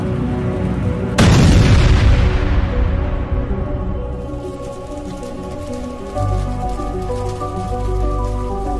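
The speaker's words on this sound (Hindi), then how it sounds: "उस गाड़ी में टकरा जाती है, जिससे एक जोर का धमाका होता है" A sudden loud boom of a car exploding after a crash erupts and rolls into a long, fading rumble with crackling debris, then a lower rumble continues.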